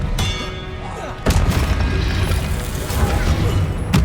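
A spell cast during a wizard duel in Hogwarts Legacy, heard as a sudden loud burst at about one and a quarter seconds, followed by a dense, rumbling clash of combat effects and thuds.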